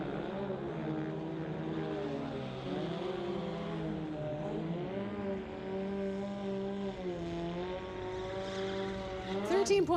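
Sport compact cars at a street legal drag racing night, engines droning steadily with rising and falling revs throughout, fairly distant, under a faint public address voice, ending in a brief burst.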